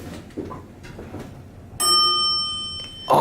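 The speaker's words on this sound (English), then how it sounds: "Oh, I love that chime." A 1989 Montgomery traction elevator at a Lake Buena Vista resort sounds its chime, a single clear bell-like ding that rings with a sustained tone, followed by a louder noisy burst near the end; no talking.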